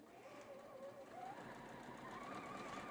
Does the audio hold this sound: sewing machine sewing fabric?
yes